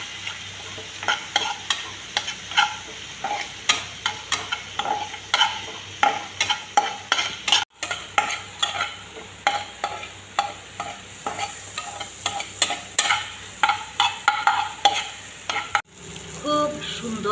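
Butter prawns fry in a pan with chili and turmeric powder, a steady close sizzle broken by repeated sharp scrapes and clacks of stirring, with no talk.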